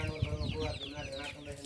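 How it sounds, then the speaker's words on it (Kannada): Chickens and chicks clucking softly nearby at a village home, a brief quiet burst of low clucks and peeps with faint background noise. "ನಾ ಕೋಳಿ ಮರಿ ಮಾಡಿದ್ದೆ"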